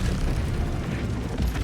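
A tank fires in a video game, producing a continuous heavy rumbling explosion with booming low end that stays loud and dense throughout, with no voices.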